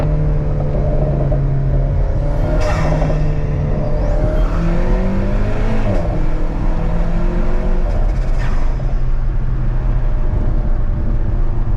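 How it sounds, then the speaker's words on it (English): An Alfa Romeo 4C at a track day produces a loud, constant engine drone with shifting pitch, a deep exhaust rumble and occasional pops, heard from inside the car with no talking. "You can hear a little bit of pops. It's like a rumble more than a pop."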